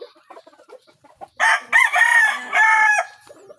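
A young red rooster, being readied for cockfighting, clucks softly a few times and then crows loudly and close in one long, strained call, followed by faint clucks.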